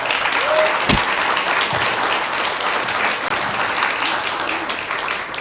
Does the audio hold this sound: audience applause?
yes